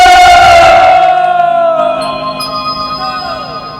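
A large crowd at a Kali Mata devotional gathering in Bemetra roars a loud sustained chant that rises and then trails off, with voices and tones lingering afterward.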